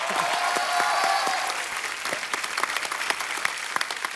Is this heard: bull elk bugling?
no